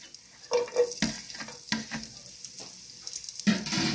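Onions sautéing in a little oil for a bok choy with oyster sauce dish, a soft crackling sizzle punctuated by several sharp scrapes and knocks of a spatula in the pan, close and intermittent, with no voices.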